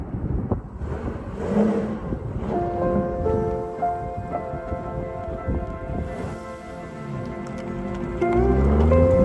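Car driving across a bridge, a steady broadband road rumble with tonal engine or tire hum swelling and shifting throughout, ending with louder low rumble; no talk.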